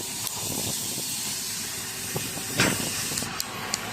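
Corn grills over an open fire with a steady hiss and scattered sharp pops and crackles, heard close and fairly loud.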